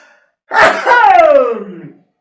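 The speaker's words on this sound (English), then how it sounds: "I'm gonna sneeze." A single loud human sneeze during an anatomy lecture on the leg bones, heard close with a sharp intake of breath followed by a drawn-out, falling burst.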